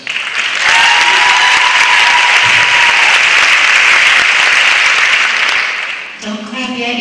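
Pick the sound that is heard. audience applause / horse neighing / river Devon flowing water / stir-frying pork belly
audience applause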